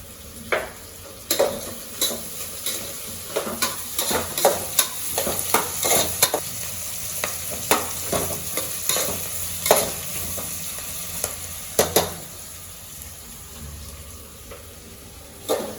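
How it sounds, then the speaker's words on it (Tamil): Onions for tomato rice fry in a pan with a little salt, a constant sizzle broken by frequent sharp clinks and scrapes of a spoon stirring against the metal, close and without speech. "இந்த வெங்காயம் வதங்கிறதுக்கு கொஞ்சமாக உப்பு போட்டுக்கலாம்."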